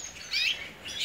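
A nevado marfil canary gives short, bright, high chirps close by, two quick bursts of song within about a second over a quiet background.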